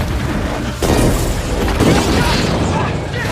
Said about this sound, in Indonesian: terjadi ledakan energi yang membuat mereka berlarian